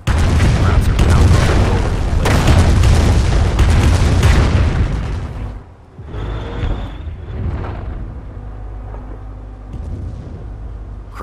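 Artillery explosions in the World War II strategy game Company of Heroes, heard as a dense, loud, rumbling barrage that eases after about six seconds into scattered booms against a lower battle din. Voices can be heard under it.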